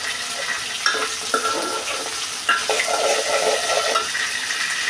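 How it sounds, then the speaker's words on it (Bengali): Potatoes frying in oil in a pan for a vegetable curry, a steady loud sizzle with occasional stirring scrapes and bursts of spitting. "তো প্রথমে আলু একটু ভেজে নিলাম।"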